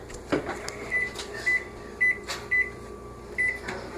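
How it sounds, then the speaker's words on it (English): Microwave oven running with a bar of Ivory soap inside, giving a steady low hum broken by a clunk early on and a series of short high electronic beeps repeating about every half second. "today we are putting Ivory soap in a microwave"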